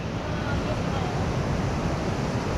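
A small waterfall among stony rocky hills rushes with a steady, loud broadband roar that fills the whole stretch, with no voices on top.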